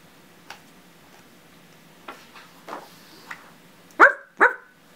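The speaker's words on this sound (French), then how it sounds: "Le chien veut jouer." A dog barks twice in quick succession, loud and close, after a few softer scattered ticks and knocks in an otherwise quiet room.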